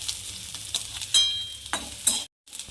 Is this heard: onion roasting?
yes